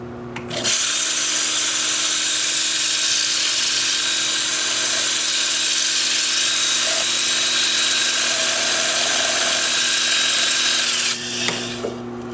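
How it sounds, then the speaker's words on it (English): A wooden vase is sanded on a lathe spinning at about 325 RPM, giving a loud, steady whirring hiss that starts abruptly, holds evenly for around ten seconds, then cuts off. "with the lathe spinning at about 325 RPM in both cases, I'll get the outside sanded"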